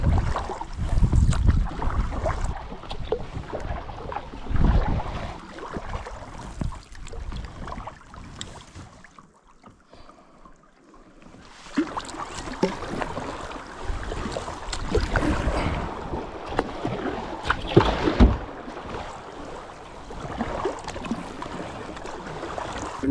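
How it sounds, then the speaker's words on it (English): Wind gusts roar and rumble across a lake on a canoe trip in Prince Albert National Park, with steady buffeting and splashing water. A calmer lull falls midway before the gusts return. "Wind is picking up and we may have a little bit of a battle to get back."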